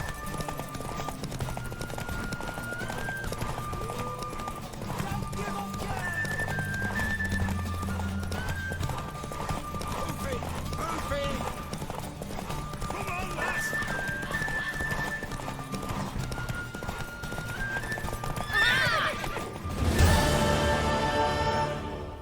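A horse gallops in a race in The Witcher 3, with steady clip-clop hoofbeats running throughout, neighs rising over them, and voices talking across much of the stretch.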